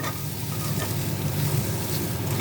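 Pointed gourd dropped into hot oil in a pan with spinach on the way, giving a dense, steady sizzle and crackle close up, with no talking.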